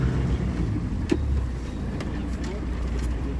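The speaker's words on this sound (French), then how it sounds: "Fais ton drift et laisse le bateau pivoter." A boat motor rumbles low and steady nearby while the vessel manoeuvres, with wind buffeting the microphone and a few faint knocks.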